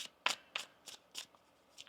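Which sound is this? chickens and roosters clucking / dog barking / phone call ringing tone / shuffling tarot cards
shuffling tarot cards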